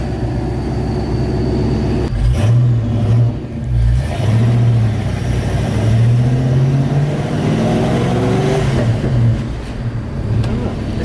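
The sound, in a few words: Mustang engine revving with open headers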